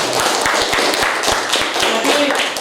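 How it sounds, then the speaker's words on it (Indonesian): A primary school class claps together in an Islamic jurisprudence lesson: loud, sharp, near hand claps in a fairly regular rhythm over a busy roomful of noise, with faint voices mixed in. "Bagus sekali, tepuk tangan."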